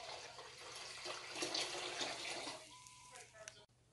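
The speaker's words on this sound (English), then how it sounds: "At this point, you're gonna add more water." Tap water running into a pot of chicken vegetable soup broth in a country kitchen, a steady broadband rush that shifts in pitch as the pot fills, with a brief louder splash mid-way before cutting off.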